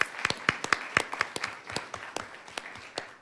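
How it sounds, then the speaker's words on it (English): Scattered audience clapping at a law symposium panel, a modest room of individual hand claps with distinct sharp peaks that thin out and fade over a few seconds. "let's give them a big round of applause for that"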